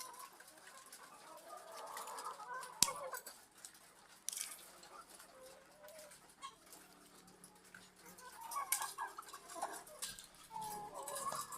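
Chickens on a farm clucking and calling in scattered, soft bursts nearby, with occasional sharper squawks and a few faint background sounds in between.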